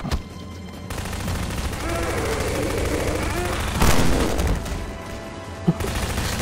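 Gunfire in a Garry's Mod horror map video game: dense, loud bursts of rapid shots over a noisy background, with a sharp louder blast near the middle and another crack near the end.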